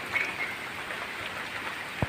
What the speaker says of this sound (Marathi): हे बघा पावसाला सुरुवात झाली आणि जोरदार पाऊस आहे